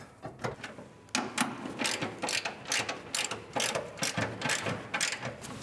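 Rapid ratchet wrench clicking on a nut while installing a shock plate on a Ford Mustang with a RideTech StreetGRIP kit, close and loud bursts of pawl clicks repeating for several seconds.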